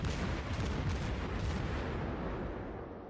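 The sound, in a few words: Omaha cruiser firing high explosive shells, World of Warships video game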